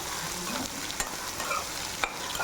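Brinjal sautéing in a generous amount of oil, a low continuous sizzle with repeated stirring scrapes and occasional spoon taps on the pan.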